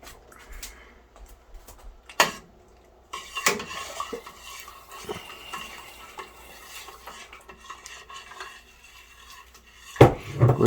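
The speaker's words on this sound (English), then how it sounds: "We've got 4 cups or 1 liter or 2 pounds of sugar that we're going to go ahead and stir it with." A spoon stirring sugar into warm apricot wine must in a pot, soft swishing and scraping punctuated by a few sharp metallic knocks against the rim, with no talking.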